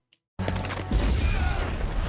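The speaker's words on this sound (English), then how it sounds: "There's an explosion." A loud explosion in the video game Fire Emblem: Path of Radiance bursts in suddenly after a brief silence, then holds as a dense, rumbling roar to the end with no talk over it.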